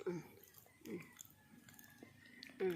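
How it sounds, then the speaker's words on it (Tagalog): Someone bites into and chews guava, with several soft crunchy bites and moist chewing sounds spaced out, fairly close and quiet. "Kain-kain lang ng bayabas."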